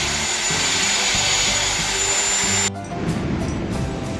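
A loud, steady machine whine from a workshop lathe or threading tool cutting threads on a 20x12 plate, running continuously and then dropping abruptly to a rougher, lower mechanical rumble near the end.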